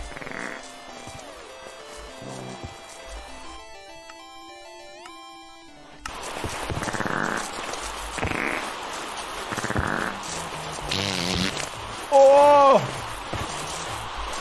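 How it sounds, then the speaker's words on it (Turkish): A cartoonish fart sound effect in a zombie-outbreak video game, triggered by a key press, rings out loudly near the end over busy game music and sound effects, with a voice talking around it. "Abi bir dakika osurmak için G'ye mi bas?"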